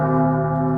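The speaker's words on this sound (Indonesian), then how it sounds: "aku mendengar suara lonceng di telinga kanan dan kiri" A sustained, resonant bell tone rings as a horror-podcast sound effect, its steady harmonics humming loud and even throughout without any voices.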